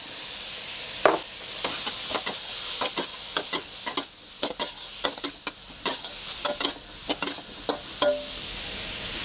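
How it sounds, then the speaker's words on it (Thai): Blanched stink beans stir-fried with pork belly, shrimp paste and oyster sauce in a hot pan, a bright sizzle broken by a quick series of spatula scrapes and clacks, close and without talk. "จากนั้นเราก็ใส่สตอที่ลวกแล้วลงไปได้เลยครับ"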